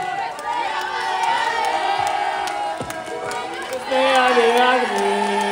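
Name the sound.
audience cheering and applauding cosplayers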